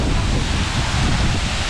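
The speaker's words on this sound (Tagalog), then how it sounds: "Ang lakas po ng hangin." Strong wind roars steadily into the microphone at the base of a waterfall, a constant heavy rushing blast with no pauses, close and loud.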